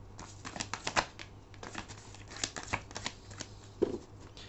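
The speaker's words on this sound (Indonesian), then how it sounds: "Kita akan shuffle dan kita akan ambil 5 kartu." Tarot cards being shuffled by hand, a quiet run of soft riffling flicks and taps close by, with no talking.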